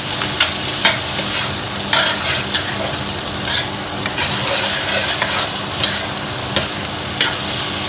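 Bell pepper and white onion stir-fry in a hot pan, a loud, continuous sizzle with repeated scraping strokes of a spatula close up.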